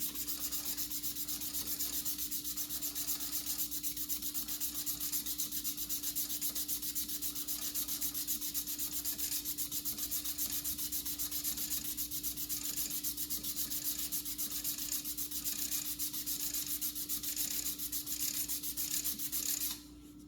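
Fine sandpaper rubs against a wooden pen blank spinning on a lathe, a continuous even rasp over a steady motor hum, close and unbroken until it drops off at the end.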